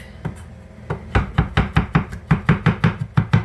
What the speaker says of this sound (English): chop like that. And you can get a pretty good mince on there.